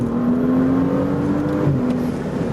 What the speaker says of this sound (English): Going back onto the straight road, gonna give it some gas.